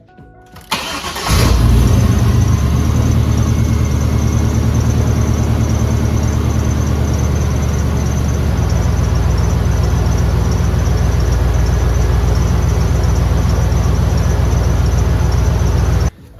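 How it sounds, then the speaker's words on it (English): A 1999 Camaro Z28 V8 starts up and keeps running loud and close, a steady idle with a faint squeak from the engine riding over it, with no voices. "Engine is squeaking,"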